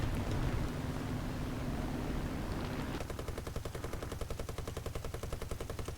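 Aircraft machine guns rattle in War Thunder, starting after a stretch of steady engine-like roar and then continuing as a rapid, even stream of shots to the end, fairly faint overall.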